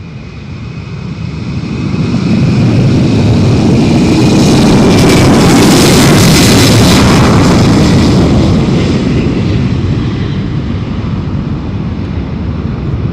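Embraer E195-E2 jet airliner on approach and arrival at London City, a loud, broad engine roar that swells to a peak midway and stays strong to the end, with no talk.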